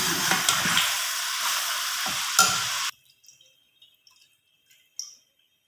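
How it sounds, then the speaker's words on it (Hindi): Chicken deep fries in oil for a white korma, giving a loud, close, dense sizzle with stirring that cuts off abruptly into near silence broken by a few faint drips and clinks. "ये डीप फ्राई हो गया हमारा।"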